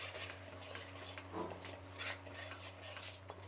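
Peanut chutney mixture is stirred in a pan off the heat, quiet scraping and clinking of a utensil against metal in short strokes beneath a low hum.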